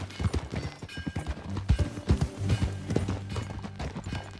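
Horse hooves clip-clopping steadily while riding in Red Dead Redemption 2, a close, rhythmic trot of repeated hoofbeats with faint ambient game sound behind.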